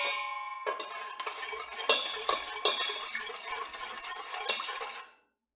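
A spoon stirring sugar into a milk bun dough mixture in a bowl, giving repeated scraping knocks and clinks at an uneven rhythm, close and fairly loud, with no voices.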